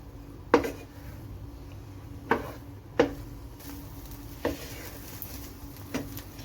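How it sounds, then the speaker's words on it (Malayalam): Egg and bread masala stirred in a pan, with a soft sizzle underneath and several sharp, separate clinks and scrapes of a utensil against the pan at irregular intervals, close and alone. "ആ സമയം നമുക്ക് നന്നായിട്ട് ഇതൊന്ന് എല്ലാം കൂടി ഒന്ന് മിക്സ് ചെയ്ത് കൊടുക്കാം."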